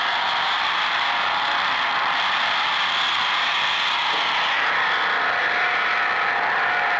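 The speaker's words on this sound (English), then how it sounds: "Noise of the dryer again." A steady mechanical whir and hiss runs continuously, like a clothes dryer tumbling nearby, with no talking.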